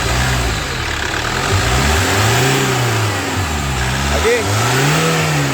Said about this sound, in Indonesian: Nah sekarang coba gas bos.